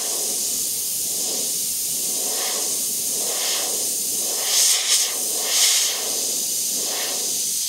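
An airbrush sprays paint to shade a model of barbed wire, a steady close hiss that runs throughout with a few brief, louder bursts of spray partway through.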